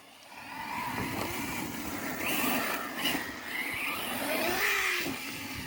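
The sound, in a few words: Arrma Mojave 6S RC car accelerating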